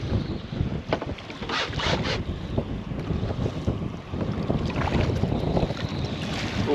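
Steady wind gusts over a small fishing boat on Southampton Water, a continuous loud roaring rush with buffeting on the microphone and faint water sounds beneath.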